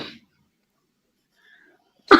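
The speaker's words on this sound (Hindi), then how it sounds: "खांसी आ गई आपको, दवाई ले लो आप।" Two short, sharp cough bursts, one at the start and one at the end, separated by near silence.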